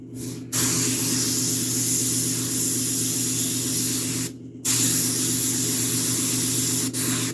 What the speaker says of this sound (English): And we're going to adjust my airbrush.